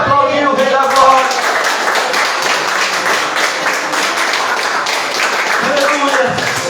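A church congregation at a men's worship service breaks into sustained clapping and cheering, dense and steady throughout, with voices shouting over the applause.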